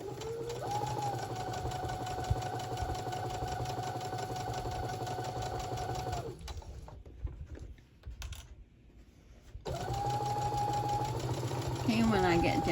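A sewing machine stitches a quarter-inch seam on a small quilted mug rug, its steady rapid whirring hum running close and loud, pausing briefly mid-way before starting again, with someone talking over it.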